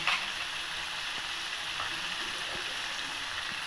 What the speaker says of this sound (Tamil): இப்போ பாருங்கள், நான் மிளகா சாந்து வேக வச்சேன்.